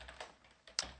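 A handful of quick computer keyboard keystrokes entering C++ code, soft and close, with one sharper key clack near the end, no talking.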